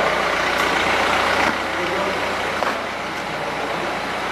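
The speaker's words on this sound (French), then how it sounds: "Là, c'est un démarrage à froid aussi. Il n'avait pas démarré depuis des mois le véhicule." A Renault Kangoo engine idles on a cold start after sitting unused for months, a steady loud rumble running throughout with a slight drop in level midway.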